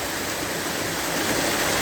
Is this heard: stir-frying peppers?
no